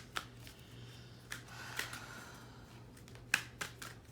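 Quiet tarot card shuffling close by: soft papery riffles and a few sharp snaps and taps over a low steady hum.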